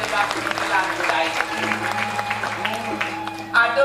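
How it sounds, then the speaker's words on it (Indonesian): An audience applauds at a Balinese drama gong performance, a steady wash of clapping at moderate distance that plays under a voice and gamelan-like tones. "Ngiring tepuk tangan"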